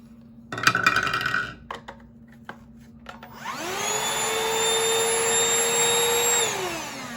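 A Shark UltraCyclone Pet Pro Plus CH951 cordless handheld vacuum whirs up to a steady, high-pitched motor whine close by, holds it for a few seconds, then spins down, preceded by clicks and handling noises.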